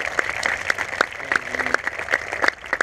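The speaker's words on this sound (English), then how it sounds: "Let's give them a round of applause." Scattered hand claps from an audience at a high school marching band preview show, honoring the drumline's music writers. The claps are sharp and uneven, with a steady background hum underneath.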